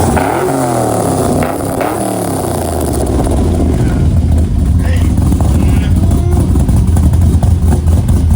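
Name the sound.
Dodge Charger car engine revving and shaking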